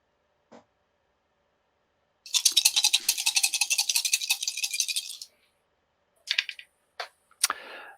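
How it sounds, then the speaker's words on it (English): Six dice rattle and clatter as they are rolled during a tabletop game session, with a sustained burst of rapid clicking for about three seconds, then a few shorter clacks as they settle. "Now for the fun part. which is 6 dice, right?"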